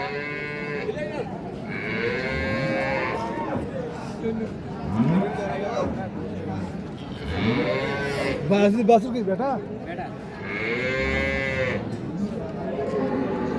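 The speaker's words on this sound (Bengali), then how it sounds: "এই পাশে দেখছি আমরা একটা শাহিওয়াল সিন্ধি গাভী এবং শাহিওয়াল ষাঁড় বাচ্চা।" A Sahiwal Sindhi cow and her Sahiwal bull calf moo repeatedly and loudly, long drawn-out calls recurring throughout while people talk close by.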